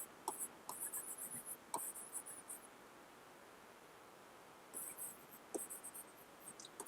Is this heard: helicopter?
no